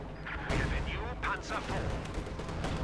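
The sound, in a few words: grenades exploding in video game Company of Heroes 2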